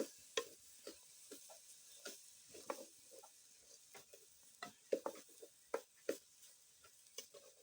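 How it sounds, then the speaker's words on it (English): Cabbage is stirred in a cooking pot over a fire, with irregular knocks and scrapes of a spoon against the pot over a faint background sizzle, close by and without talking. "We continue stirring until the cabbage is like ready, because I don't need it to cook too much."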